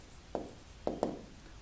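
Three soft, close taps of a pen on paper as math work is written out, with quiet gaps between them and no talking.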